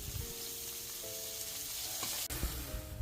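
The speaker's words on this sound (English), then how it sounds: "let's fry the ingredients together until the onion turns pale pink in color" Onion, garlic and curry leaves fry together in a pan with a steady, dense sizzle, close and continuous, with a faint stir or tap near the end and no talking.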